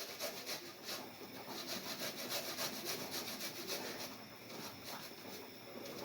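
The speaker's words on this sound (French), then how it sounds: "Ici, je vais gratter l'ail." Garlic being scraped while preparing a fish and vegetable tajine: a steady, rhythmic rasping and rubbing close by, repeating in quick strokes throughout with no talking.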